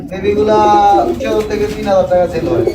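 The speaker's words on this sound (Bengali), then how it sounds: "এটা নর কবুতর আর এটা হচ্ছে মাদি কবুতর" Male and female pigeons coo in low, throaty warbles close by, while a person's voice talks over them.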